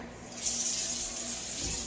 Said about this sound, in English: Okay, I'm gonna add some water